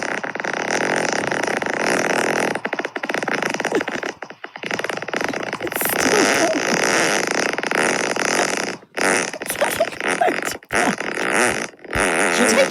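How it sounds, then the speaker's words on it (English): A long, loud fart recorded and played back, with sputtering bursts, brief gaps and rising squeaky tones alone without talk. "rate my fart"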